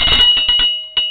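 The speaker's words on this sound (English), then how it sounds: "But that's my doorbell." Doorbell of a 1920 Craftsman-style house, an old antique bell, rings inside the home: several quick ringing strikes in a rapid cluster, then a pause and one more chime, with a steady tone lingering underneath.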